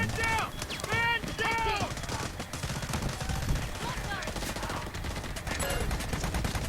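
Bursts of automatic gunfire in the shooter game Delta Force crackle loud and near, repeated in quick volleys while a voice talks over the shooting.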